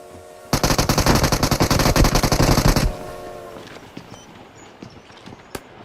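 Shotgun fire in a video game comes as a loud, rapid run of repeated shots for about two seconds, followed by quieter scattered clicks and footsteps.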